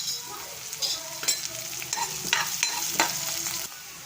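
Peanuts and onion fry in hot oil in a pan for poha, a steady close sizzle broken by scraping stirs and spatula taps throughout.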